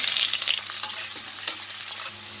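Onions sizzle and crackle steadily in hot oil with cumin and bay leaf, a close, continuous frying hiss with occasional sharper pops and stirring scrapes.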